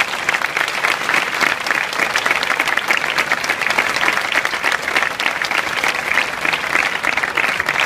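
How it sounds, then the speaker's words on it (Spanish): Sustained, dense applause from a large crowd at a Socialist Party political rally in Alicante, steady and loud throughout with no pauses. "hay que agradecer con un cerrado aplauso"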